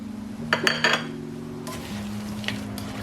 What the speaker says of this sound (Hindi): साथ ही हम इसमें डाल देंगे 2 बड़े साइज के टमाटर।